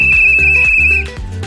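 A tour guide's whistle gives a steady, shrill tone for about a second, close and loud, over a busy outdoor background with low rumbling bursts. The tone then stops and the background noise carries on.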